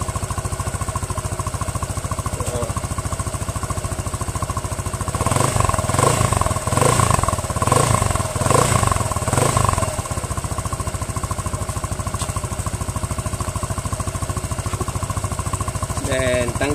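A Rusi Flex motorcycle engine fitted with a Yamaha Mio muffler tip idles close by with a steady rapid chugging putter, briefly revved louder with pulsing bursts in the middle, while someone talks over it.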